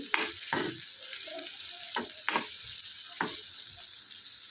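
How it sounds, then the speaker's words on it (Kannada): Onions for a potato samosa filling fry in a pan with a constant close sizzle, broken by several quick scraping stirs spaced a second or so apart; no voices. "ಈರುಳ್ಳಿ ಚೆನ್ನಾಗಿ ಕಲರ್ ಚೇಂಜ್ ಆಗೋವರೆಗೂ ಫ್ರೈ ಆಗಬೇಕು"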